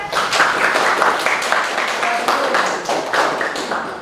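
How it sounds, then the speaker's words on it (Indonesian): Students in a classroom clap for group 4, a fairly close, uneven patter of individual hand claps with a few thuds and faint voices underneath. "Beri tepuk tangan."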